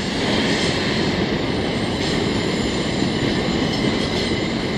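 A CN freight train rolls through a Montreal rail yard, making a loud, continuous rumble of wheels and cars with faint squeal, close and steady throughout with no talk.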